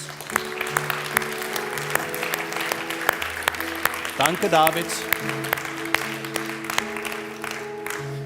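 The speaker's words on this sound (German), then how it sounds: "Geben wir ihm einen Applaus." Audience applause after a talk on faith and God, a sustained patter of clapping running under background music while someone speaks briefly over it.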